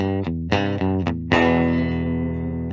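A few clean electric guitar chords from a 2021 Fender Super Sonic on the bridge pickup ring out with a thin, bright tone, each strike sustaining briefly before the next, the last one left to decay.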